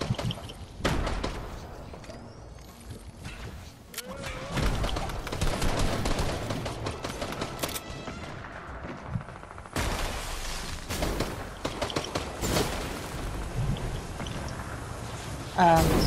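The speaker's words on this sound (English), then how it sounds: "Sorry, this person's shooting at me." Gunfire in Fortnite, with bursts of rapid shots and sharp single cracks scattered across a busy game soundscape, loud in places, while people talk over it.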